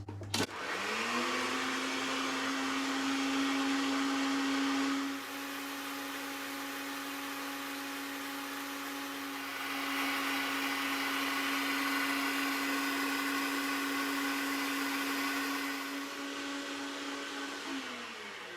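Stand mixer beating Swiss meringue buttercream, a loud, steady motor whir with a constant pitch that dips slightly in level around a third of the way through, then holds on until it shuts off near the end.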